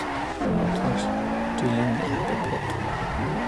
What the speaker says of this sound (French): Ici, on va prendre un peu de vitesse. Je vais tenir le drift.